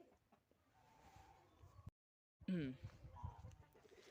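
Chickens on a backyard farm cluck softly nearby, with a few sharper calls after a brief gap and a faint voice in the background.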